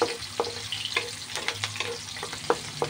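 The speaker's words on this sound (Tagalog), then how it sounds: "Gisa na po si Ate May guys. Buyas, bawang." Onion and garlic sauté in a pan with a close, continuous sizzle, punctuated by sharp scraping taps from a stirring utensil.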